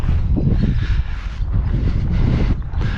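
Strong wind blowing outdoors while a small foam R/C jet plane is flown, a steady loud gusting roar buffeting the microphone throughout, rising and falling slightly with no voices.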